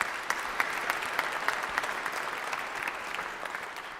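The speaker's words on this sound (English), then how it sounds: "Okay, so let's give them a hand of applause." Audience applause at a Founders Day convocation, a continuous wash of many hands clapping with a few sharper individual claps standing out, holding steady and easing slightly toward the end.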